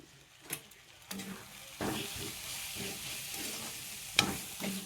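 Chicken masala mixture frying in a pan, soft sizzling broken by several scraping stirs and a sharp clink near the end.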